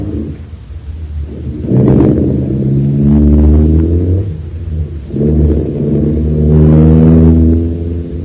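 Car engine in an old radio drama cranks and starts, then revs and accelerates away in two rising pulls, loud and close, with a rumbling low drone between them.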